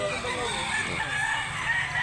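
Rooster crowing at a chicken market in South Cebu, a single drawn-out call amid the dense, steady din of many birds and crowd noise.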